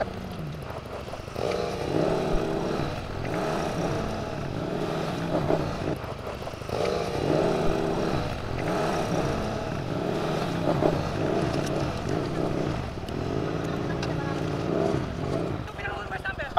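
A heavy 1000 cc motorcycle engine running and revving on an off-road scooter competition course, a continuous rough engine drone with rising and falling revs under frequent nearby talk.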